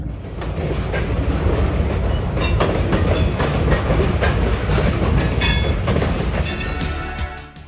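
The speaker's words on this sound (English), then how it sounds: "Unless a train comes by." A train rumbles past nearby, loud and continuous, with rhythmic clickety-clack of wheels over rail joints and metallic squeals before fading at the end.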